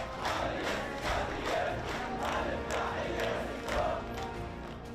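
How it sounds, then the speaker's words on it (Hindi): Crowd at a burial gathering claps and chants slogans in rhythmic surging bursts, a loud massed outdoor roar rising and falling roughly every second with no clear speech. "वो अब तालियां बजाकर नारे लगा रहे थे"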